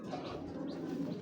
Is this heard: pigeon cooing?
yes